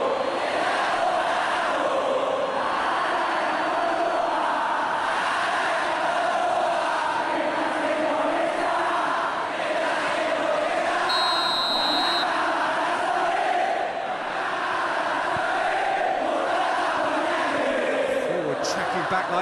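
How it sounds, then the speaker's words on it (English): Football stadium crowd cheering a defensive play in a match involving Indonesia, a sustained roar with chanting under it that holds steady at moderate loudness, with commentary faintly mixed in. "That always appreciated by the crowd."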